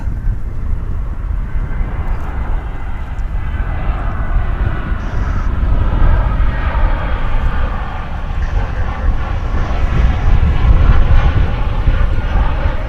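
An American airliner arriving at DFW Airport from Colorado Springs makes a loud, steady broadband engine roar that holds through the whole stretch and swells slightly toward the end, with no talk over it.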